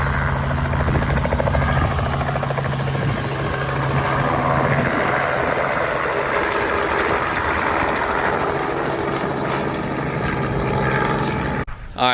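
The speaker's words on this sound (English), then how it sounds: "About to watch this helicopter take off." A helicopter taking off near a car club rally stop at a bakery, its rotor and engine noise loud and continuous with a steady thumping chop, cutting off abruptly near the end.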